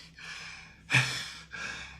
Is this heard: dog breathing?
yes